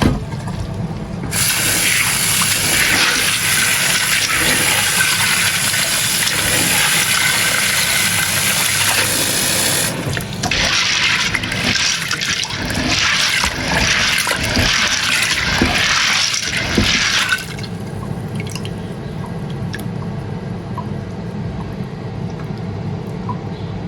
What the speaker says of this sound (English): I'll sieve the water out, rinse it like 3 times.